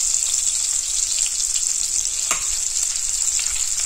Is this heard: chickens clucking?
no